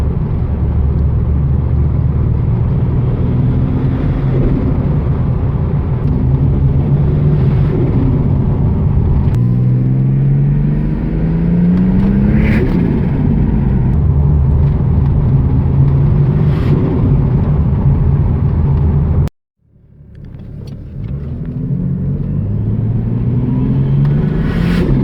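Turbocharged Ford ED Falcon engine fitted with a Quickspool plate revs repeatedly, rising and falling in loud close rumbling sweeps, then cuts off abruptly near the end before idling back up.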